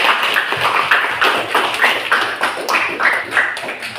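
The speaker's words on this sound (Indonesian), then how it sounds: "Ya, tepuk tangan semuanya." A class of students claps hands together during a lesson on belief in the holy books, a steady run of fairly loud, slightly uneven claps across about four seconds in a classroom.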